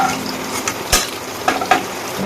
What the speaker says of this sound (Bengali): এবার ভেজে নেব ফুলকপিগুলো এগুলো ভাজা হচ্ছে